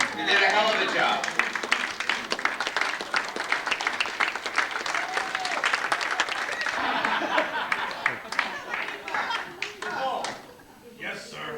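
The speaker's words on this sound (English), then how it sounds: "Give yourself a round of applause" An audience at an amateur theatre group's awards ceremony bursts into sustained applause, many hands clapping loudly and steadily, with voices calling out over it before the clapping thins toward the end.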